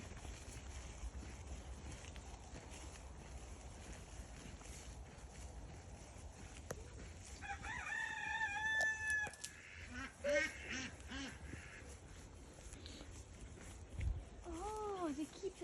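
Ducks kept at an outdoor farm-like spot with horses quack and honk in several short bursts partway through, moderately near, over steady outdoor ambience and wind noise.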